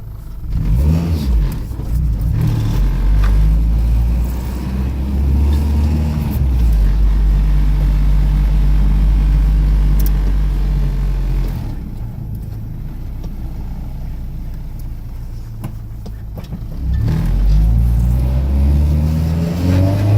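A 1997 Acura Integra with an idle problem drives off and accelerates, its engine revving up through several loud surges and gear changes, easing off midway, then climbing again.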